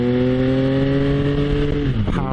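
A motorcycle engine pulls uphill in a lower gear, a strong steady drone with clear harmonic tones that dip briefly near the end and then climb again as revs change, close and loud, with no talking.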